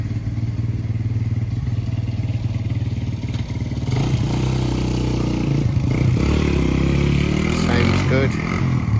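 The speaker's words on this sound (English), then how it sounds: "This is a 1971 Suzuki T500 Titan. It's a good running bike." A 1971 Suzuki T500 Titan two-stroke motorcycle running on petrol two-stroke mix, a loud, close, steady idle with a raspy buzzing exhaust that rises in pitch as the throttle is blipped partway through.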